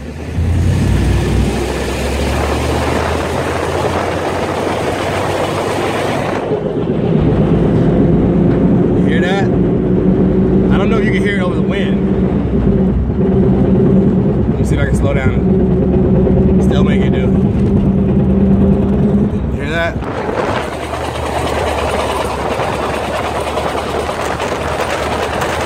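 Front-end noise from a 1996 Jeep ZJ with Quadra-Trac four-wheel drive while driving: a loud, continuous road and drivetrain rumble with a droning, wavering mechanical tone through the middle, plus short scattered clunks and squeaks.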